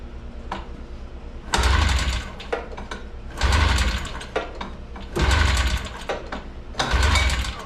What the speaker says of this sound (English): hopefully get this to start without actually having a choke